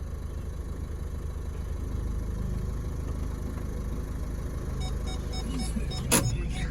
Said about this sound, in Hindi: मैंने जब धीरे धीरे क्लच छोड़ना शुरू किया तो एक पॉइंट आया जब कार धीरे धीरे चलने लग गई